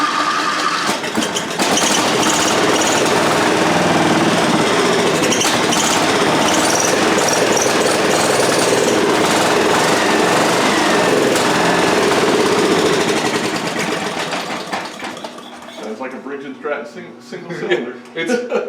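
The single-cylinder horizontal gas engine of a John Deere 440 dozer runs in a loud, rough, continuous chug, then winds down and fades toward the end, with people talking nearby.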